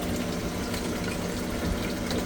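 Really hot water pours and gushes steadily into an ice machine during a flooding fix, a close, continuous watery rush with no talking.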